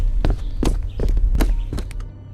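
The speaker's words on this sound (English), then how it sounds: "Footsteps." Quick, uneven footsteps of someone running, about seven sharp irregular thuds on a hard floor, close and fairly loud with no voices.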